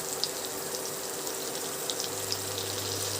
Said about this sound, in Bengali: আমি মশলার বাটিটা ধুয়েই জলটা অ্যাড করছি।